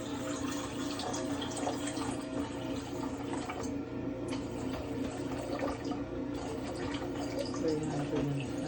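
A continuous stream of 310 grams of water pouring and splashing into a mixing bowl for Italian bread dough, steady and moderately loud with small drips and gurgles.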